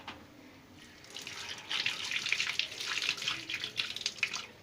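Tap water runs steadily while the compartment of a Von 10 kg twin tub washing machine is washed, the hiss faint at first and then growing louder and fuller after about a second, with uneven splashy surges.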